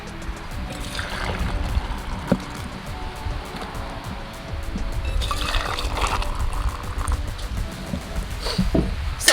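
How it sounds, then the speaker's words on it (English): Boiled water poured from a pot into mugs to make tea at a campsite in Craigleith Provincial Park, an uneven trickling and splashing with a few clinks and handling knocks, no talk. "So we're only half filling these because these tea bags say to use them with 8 ounces of water"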